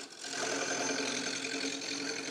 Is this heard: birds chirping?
no